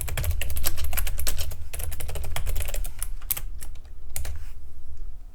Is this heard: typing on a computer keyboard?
yes